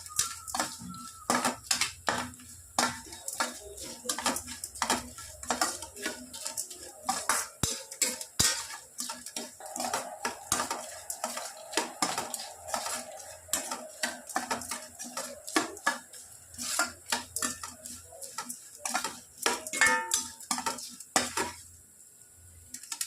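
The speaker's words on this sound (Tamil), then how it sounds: "நல்லா ஒரு 2 நிமிஷம் நல்லா வதக்கிடலாங்க" Spoon scraping and clattering in a pan as coconut rice ingredients are sautéed and stirred, with a soft sizzle underneath, a steady run of close metallic knocks and scrapes and no talking.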